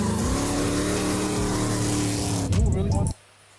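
An 850hp burnout car and an 800hp S15 Silvia drift car race side by side, engines held at a loud sustained high-rev roar with tire noise, then a sharp burst before the sound cuts off abruptly.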